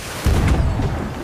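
A heavy, booming blast of cannon fire in the video game Sea of Thieves, a single deep rumble that swells and trails off over about a second.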